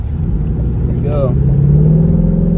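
A Ford Mustang GT with a 10-speed gearbox pulls on a highway, a loud deep engine drone rising steadily in pitch, with a brief voice over it.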